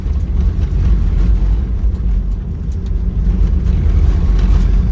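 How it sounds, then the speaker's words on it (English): A 1961 Cadillac Sedan Deville drives on a paved road on a windy day, with a steady, loud low rumble of engine and road noise from inside the cabin and no talking. "I want to hear the road and hear the car."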